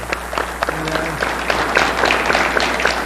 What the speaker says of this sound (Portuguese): Uma salva de palmas para o César Sampaio, o craque da rodada.